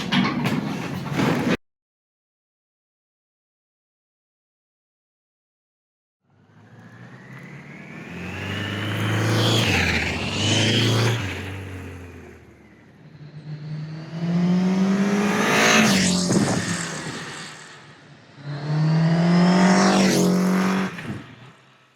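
A 1986 Voyager XII motorcycle rides by in several loud passes, its engine rising and falling with revving and acceleration, after a brief burst of sound and a few seconds of silence.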